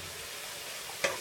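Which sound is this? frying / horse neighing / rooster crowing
frying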